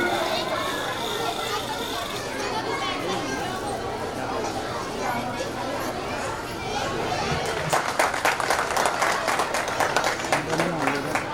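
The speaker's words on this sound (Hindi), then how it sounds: "तेज तालियां बजाए सर के लिए प्लीज।" Applause from parents at a school Jashn celebration in honor of a teacher: scattered clapping grows denser over the last few seconds, mixed with crowd chatter and children's voices.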